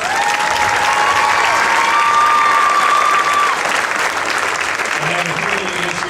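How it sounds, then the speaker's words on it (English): Steady applause from a crowd at a school graduation ceremony, loud and continuous throughout, with a faint tonal hum or whistle running underneath. "a big round of applause"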